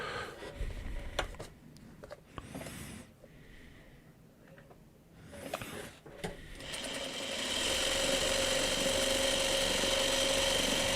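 A sewing machine stitching fabric pieces, broken runs at first and then a loud, steady whirring burr for the last few seconds, with rustling and handling noises in between and no speech.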